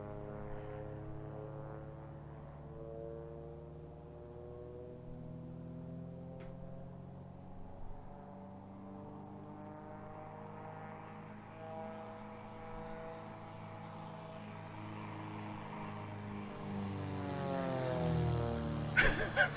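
A propeller airplane in Microsoft Flight Simulator 2020 makes a flyby: a steady engine drone that slowly rises in pitch and swells louder toward the end as it passes close.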